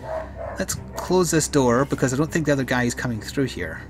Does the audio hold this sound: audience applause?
no